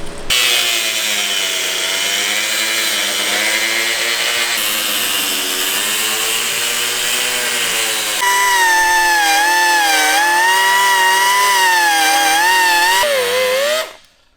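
A power tool cuts out a part with a loud, continuous whining drone. The steady motor tone rises in pitch and wavers partway through, then stops abruptly at the end.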